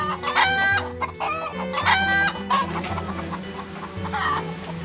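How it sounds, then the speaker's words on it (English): A chicken squawks and clucks loudly in repeated frantic bursts along a road, agitated calls rising over a steady low rumble like an idling van engine. "Whenever we took a break along that road, that chicken would just start squawking and going nuts until the Bieber brothers got back into the"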